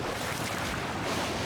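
Water from a waterfall in the Genshin Impact video game makes a dense, steady rushing roar. It sounds loud and continuous, with no break and no voices.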